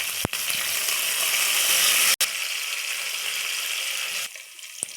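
Onions fry in hot oil in a pan with salt, slit green chilies and mint, giving a loud, steady sizzle broken by a couple of sharp clicks before it quiets near the end.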